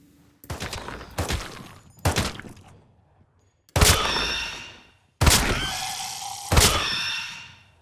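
Gunfire in the Quarantine Zombies zombie shooter game: loud, close bursts of shots in several separate volleys, the later ones with long ringing tails, and no talking over them.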